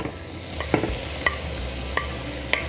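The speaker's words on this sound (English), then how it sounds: "we just want to keep stirring and cooking until the peppers and the onions are soft" Peppers and onions frying in a pan under a steady close sizzle, with four sharp spatula taps against the pan at regular intervals as they are stirred.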